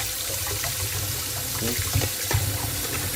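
Tap water runs steadily into a bathroom sink while the drain pipes are cleaned of hair and grime, with small splashes and gurgles; a brief spoken word cuts in.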